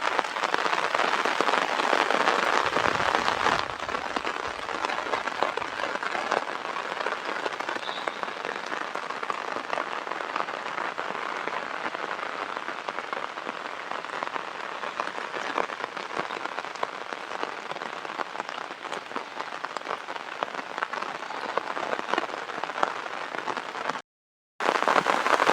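Monsoon rain falls steadily, a dense even patter on surfaces that lasts throughout without talk.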